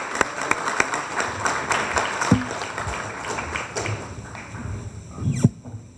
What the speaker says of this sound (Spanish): les vamos a pedir un fuerte aplauso